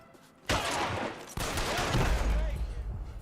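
Gunfire from the video game Marathon starts abruptly as a dense, loud burst of shots and keeps going, with a second sharp onset partway through, under faint game voices.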